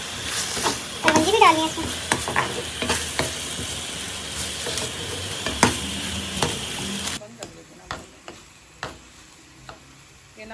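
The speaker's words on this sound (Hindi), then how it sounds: "1 चम्मच लाल मिर्च और आलू का आवाज़ मार रहा है।" Potatoes with red chili powder frying in a pan for achari aloo: a loud, dense sizzle for several seconds with spoon scrapes, then the sizzle drops away leaving sharp clinks of stirring, with someone speaking briefly.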